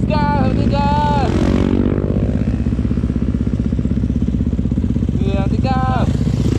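A Yamaha YZ250FX enduro dirt bike revs hard on the Cirangsad enduro trail, its engine rising and falling in pitch with a loud, steady drone throughout, while people talk over it.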